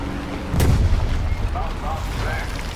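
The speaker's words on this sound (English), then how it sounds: "That's a revenge bomb." An aircraft-dropped bomb explodes in the tank battle game War Thunder, a single deep, rumbling boom that hits suddenly and fades slowly beneath a constant engine and battlefield drone, with a voice speaking faintly over it.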